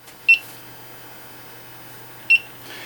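A quadcopter flight controller on a simple homebuilt multirotor beeps while armed, giving two short, high electronic beeps about two seconds apart over a faint steady hum.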